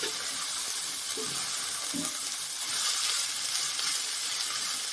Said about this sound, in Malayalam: ഇനി ആ സവോള നമുക്കൊന്ന് ഇളക്കി കൊടുക്കാവേ. ഇളക്കി എല്ലാം ഒന്നായി എണ്ണയിലൊന്ന് യോജിച്ച് നിൽക്കട്ടെ.